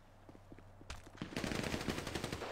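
Gunfire in a GTA roleplay game starts as scattered distant shots, then turns into a dense, loud burst of rapid automatic fire that continues to the end.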